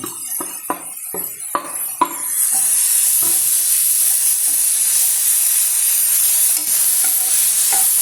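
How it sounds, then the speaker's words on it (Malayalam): Grated carrot tipped into a hot pan and stirred, with a few sharp spatula scrapes and clacks giving way to a loud, steady frying hiss that fills the rest of the clip. "ക്യാരറ്റ് ഞാൻ എടുത്ത് വെച്ചിരുന്നല്ലോ, അത് ഗ്രേറ്റ് ചെയ്താണ്. അതുകൂടെ ഇട്ടിടുവാണ്."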